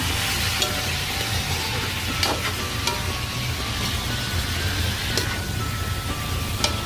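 Chopped onion and garlic sauté in a pan for kare-kare, giving a steady, moderate sizzle with occasional soft clicks and pops throughout.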